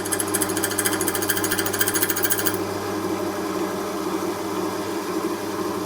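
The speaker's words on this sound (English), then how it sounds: "it's just a very light cut, just cutting the top chrome off the key, nothing more" A key cutting machine lightly cutting the top chrome off a key whirs with a steady motor drone and rapid rattling grind that stops partway, leaving the motor running alone.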